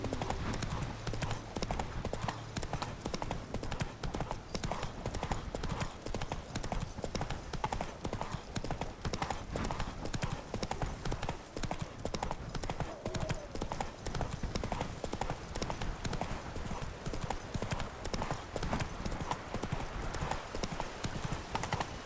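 A horse in The Witcher 3 galloping steadily, with dense, even hoofbeats pounding throughout at close range, a brief whinny possible, and only faint voices underneath.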